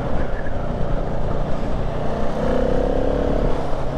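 A Ducati Multistrada V4 motorcycle is ridden along a twisty road, its engine droning steadily and loudly under rushing wind with a slight rise in pitch partway through.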